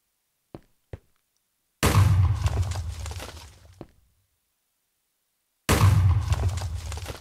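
In Minecraft, two small clicks are followed by a loud TNT cannon blast that rumbles and fades, then after a silence a second identical boom erupts.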